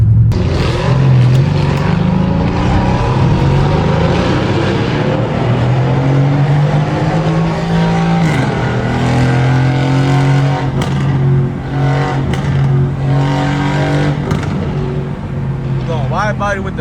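A Lamborghini Urus with a twin-turbo V8 and wide body kit revs in downtown LA traffic, a loud rumbling engine rising and falling in pitch close by, with people talking over it.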